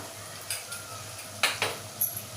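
A spoon scrapes and stirs through chicken with biryani masala in a pot for a Malvani chicken biryani, giving several short scraping strokes over a steady background hiss.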